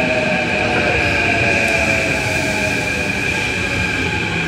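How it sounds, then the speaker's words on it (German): A train pulling into a station in Japan, a steady loud rolling rumble with sustained tonal whine from wheels and motors, continuous and close throughout without talk. "Der Train kommt."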